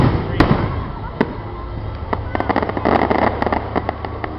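Fireworks at Disney's Hollywood Studios theme park crackling and popping in dense, rapid bursts with sharper bangs throughout, loud and continuous over crowd noise and background voices.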